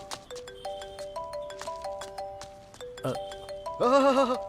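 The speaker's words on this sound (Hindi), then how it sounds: "वाह, क्या रिंगटोन लगाई है तूने?" A phone rings with a bright, bouncy electronic melody of repeating beeping notes, ending in a louder, warbling burst.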